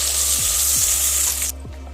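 Big sliced onions sizzle loudly in a hot pan for mushroom biryani, a steady bright hiss that suddenly drops to a much quieter sizzle partway through.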